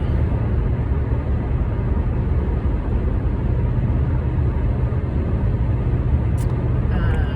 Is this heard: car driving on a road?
yes